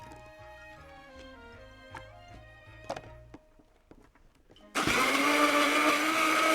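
A Blender Buddy kitchen blender making drinks and snacks kicks on after a few seconds of quieter clatter and tones, then runs as a loud, steady whir until the end.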